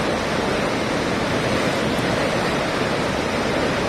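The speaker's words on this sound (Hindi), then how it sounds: "सूरत में भारी बारिश के कारण वियर कोजवे ओवरफ्लो हो गया है।" Floodwater pouring over a weir causeway in Surat after heavy rain, with the Ukai Dam releasing water, a constant loud roaring rush of water with no break.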